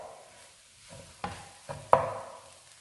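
A spatula scrapes and mashes leftover parotta and chicken pieces in a pan for kothu parotta, a few soft strokes and three sharper taps against the metal, with a faint sizzle underneath.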